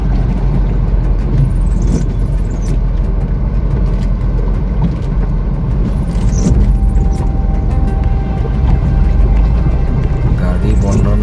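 A car pushes through deep floodwater on a Dibrugarh road in Assam, with a loud, continuous rumble of engine and churning water throughout and voices talking over it.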